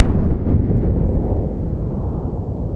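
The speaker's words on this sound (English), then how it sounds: "There's that engine relight." Blue Origin New Shepard rocket booster engine relighting during its descent to landing, a loud, deep, continuous rumbling roar that holds steady and then slowly eases off, with no talk.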